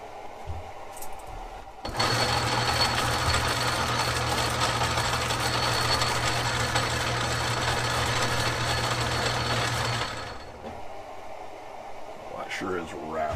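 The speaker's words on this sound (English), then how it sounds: "and then we run our back gears into place" An Atlas 10-inch lathe runs on its back gears with the bull gear pin pulled, giving a loud, steady mechanical whir and rattle that starts abruptly, holds for about eight seconds, then cuts off into quieter shop noise.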